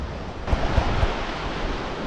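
A steady rush of Yellow Sea surf on the shore at Seocheon, South Korea, with a few soft thumps close to the microphone, a continuous wash of noise.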